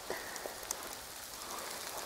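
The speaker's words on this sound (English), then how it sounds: "Starting to rain and hail" Rain and hail patter steadily on surfaces outdoors, a dense even hiss with a few sharper individual impacts, moderately faint and with no voices.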